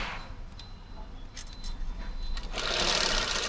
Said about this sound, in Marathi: तुम्ही पाहू शकता कशा प्रकारे आम्ही शिलाई मारतो ती